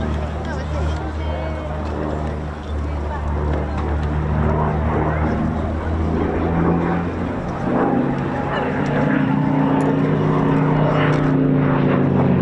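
A Yak-3 UTI aircraft fitted with a big American radial engine makes a low pass at an airshow, a loud sustained droning roar with shifting pitch as it goes by, while a commentator talks over it.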